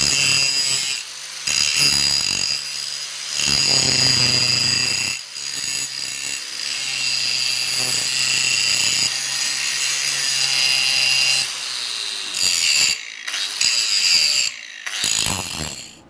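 Angle grinder working a steel spring perch bracket down to marked lines, a loud continuous abrasive grinding with bright high-pitched whine, broken by short pauses and brief touches near the end.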